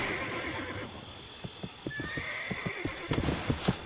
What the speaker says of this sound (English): Where's my horse at?